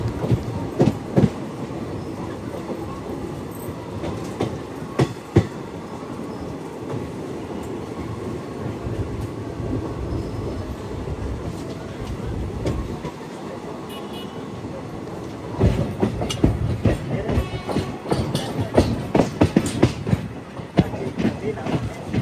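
The Circar Express, bound from Rajahmundry toward Chennai Egmore, rumbles steadily along the rails, with clickety-clack wheel beats and louder bursts of clatter near the end, heard from inside the train.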